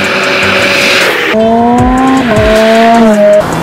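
A 2008 Ferrari F430 Spider with a 4.3-liter V8, carbon fiber air boxes and an F1 six-speed semi-automatic gearbox revs loudly nearby, its pitch climbing through the gears with sharp shifts, a strong pass and faint tire squeal, no talking.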